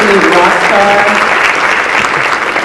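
At a conference, an audience applauds in a dense, loud burst of clapping that carries on steadily for a few seconds, with a voice audible underneath.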